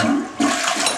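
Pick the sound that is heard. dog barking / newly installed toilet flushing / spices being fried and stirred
newly installed toilet flushing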